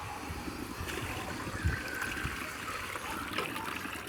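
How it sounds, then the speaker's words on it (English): Water poured into a cooking pot for boiling beef for pilau, a steady close trickle and splash that runs unbroken for about four seconds with no voices. "Into a pot, I'm going to add in some water."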